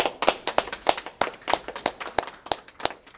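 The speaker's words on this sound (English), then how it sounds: "let's give them a big round of applause." Steady rhythmic clapping, about three claps per second, sharp and fairly close, from a small group rather than a large crowd at a press conference, with no speech.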